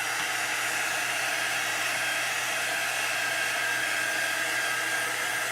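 A heat tool blows steadily for several seconds, warming a chalk paste transfer on a craft project; a continuous, even airy roar with no voices.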